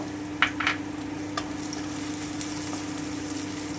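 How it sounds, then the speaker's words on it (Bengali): Chopped onion fries in oil for a brinjal bhorta, a steady close sizzle with a low hum beneath and a few quick stirring clinks near the start. "পেঁয়াজটা ভেজে নিচ্ছি"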